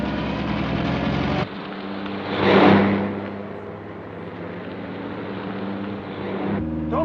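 A car engine drones steadily during a chase scene in a 1940 film, the sound cutting abruptly between shots and swelling briefly as the vehicle surges, then holding a constant hum.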